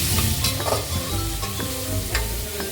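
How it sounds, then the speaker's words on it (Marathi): Crushed green chili sautéing in a pan for sabudana khichdi, a steady close sizzle with scraping stir strokes throughout, no talk. "मी याच्यामध्येच आपली मिरची क्रश केली होती ती टाकणार आहे। परतून घ्यायची याच्यामध्ये"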